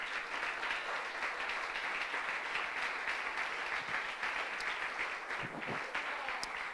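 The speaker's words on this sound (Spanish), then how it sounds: "demos el aplauso ya que lo quieren hacer." A church congregation bursts into sustained applause during a sermon, a dense, steady clatter of many hands clapping in a room, holding at an even level throughout.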